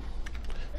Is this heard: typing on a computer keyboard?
yes